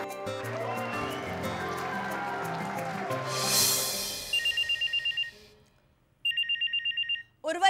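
An old-style telephone rings twice in quick trilling bursts, following a stretch of music and a swelling noise.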